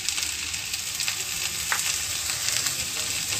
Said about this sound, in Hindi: अब इसको हम लो फ्लेम पे सारा मिक्स कर देते हैं